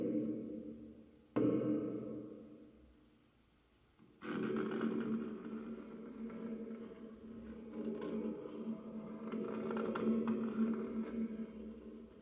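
A basic Doom Box effect played into a reverb pedal and a Washburn bass amp, giving a low droning, growling tone that cuts in abruptly, fades, then swells back and sustains, moderately quiet with an open-window room feel.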